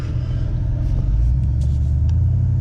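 The 6.0 gas V8 of a 2004 Chevrolet 2500HD with 195,000 miles tows a small trailer up a mountain grade in tow haul mode, giving a steady, loud, low droning rumble that holds a gear without letup.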